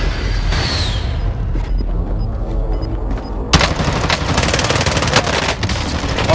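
Precision airstrike in Call of Duty: Warzone on Rebirth Island: a dense, loud barrage of rapid booming explosions and gunfire-like cracks erupts partway through and continues steadily to the end.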